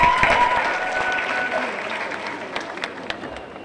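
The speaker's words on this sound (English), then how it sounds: "So let's give them a hand." Audience applause at a high school commencement ceremony, a dense wash of clapping that starts strong and gradually tapers off, filling the hall with a few scattered louder claps near the end.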